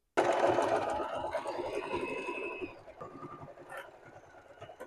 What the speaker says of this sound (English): you're just going to go sew this seam line, the straight stitch from here to here